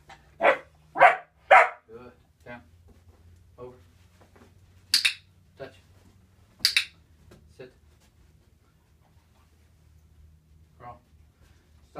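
Black German Shepherd puppy, a female, gives a few sharp barks in quick succession near the start, followed by scattered softer yips and short sounds, with people speaking quietly in between.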